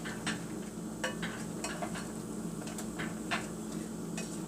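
Vegan apple pie filling being mixed, with a soft wet stirring and a few light clinks of a utensil against the bowl, close and steady with no talk.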